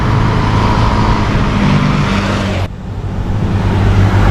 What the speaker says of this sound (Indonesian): bis Transjatengnya udah datang ya